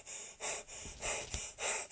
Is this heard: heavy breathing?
yes